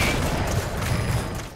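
Gunfire in the video game Metal Gear Solid V: a loud, dense volley of shots with rapid bursts that blur into one continuous barrage, with no talking.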